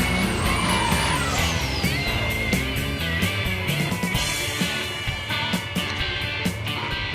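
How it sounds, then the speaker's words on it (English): A turbo diesel Chevy pickup at a dragstrip, its turbo screaming in a high-pitched whine that sweeps downward over a steady engine rumble and crowd background. "Sounds like a turbo diesel in that Chevy pickup."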